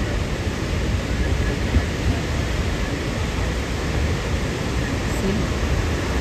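A steady, broadband roar of Niagara Falls fills the air with continuous rushing water from nearby, loud and unchanging throughout.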